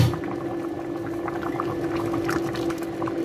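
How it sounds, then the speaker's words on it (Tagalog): Mung bean stew with lupo leaves bubbles steadily in a pot on the boil, a continuous close simmering gurgle with a low hum underneath and no talking. "kumukulo na uli ang ating munggo"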